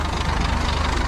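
The rear-mounted engine of a broken-down bus idles loudly and steadily with a low, even throb that fills the whole moment.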